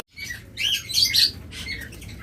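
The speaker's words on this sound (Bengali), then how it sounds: "পৃথিবীর সবচেয়ে ছোট জাতের কোয়েল পাখি" Small quail, among the world's tiniest breeds, chirping in short bright bursts, several quick tweets close by over a faint low background hum.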